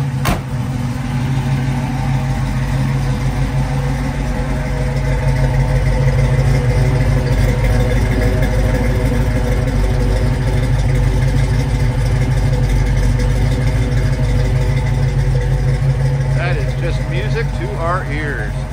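A 1967 Chevrolet Camaro engine settles into a low, smooth idle, a steady close rumble that runs unbroken from start to finish.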